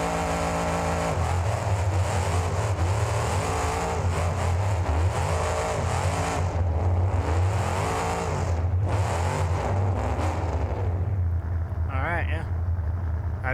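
A figure-eight outlaw race car accelerating hard in first gear in BeamNG Drive, the engine revving loudly and rising in pitch with a steady buzzing drone, while someone talks over it throughout.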